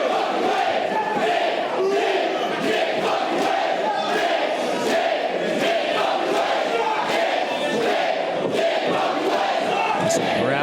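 A large wrestling crowd at a DEFY Wrestling show roars and chants behind the reigning world champion KENTA, a continuous loud wall of cheering and shouts sustained throughout.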